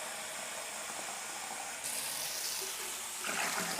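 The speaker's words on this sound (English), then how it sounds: "I let the tap run and I keep adding" Water from a tap pours steadily into a plastic beer brewing bucket, a constant hissing rush that grows slightly louder and fuller as it continues.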